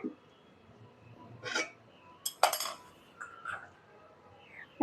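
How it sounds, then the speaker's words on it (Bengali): Scattered metallic clinks and scrapes lead up to one louder clatter as an empty wok is set back down on the stovetop, then a few lighter taps, all close and without talk. "এই কড়াইটা আমি আবার বসিয়ে দিচ্ছি"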